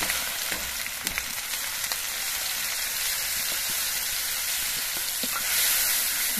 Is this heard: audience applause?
no